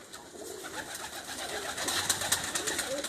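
Pigeons bred for flying competitions cooing softly in a loft, low murmuring coos blended into a dense, steady background of other birds and ambient noise, with no one speaking.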